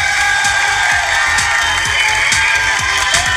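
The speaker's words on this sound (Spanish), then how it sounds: "Vamos a darle un gran aplauso" A large audience at a Mexicana Universal beauty pageant gala applauds and cheers, a dense wash of clapping with rhythmic claps and scattered shouts, loud and continuous.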